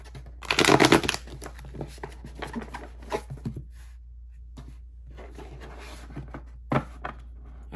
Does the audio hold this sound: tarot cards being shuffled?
yes